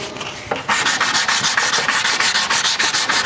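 Wood dining table finish being hand sanded with 180 grit sandpaper, a steady run of rhythmic back-and-forth scrubbing strokes, close and fairly loud with no talking.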